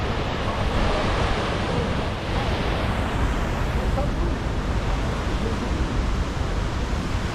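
Powerful rushing water at a hydroelectric power plant along a gorge hiking path in Spain, a steady broadband roar that fills the whole stretch at constant loudness, with a slight wind-like hiss on top.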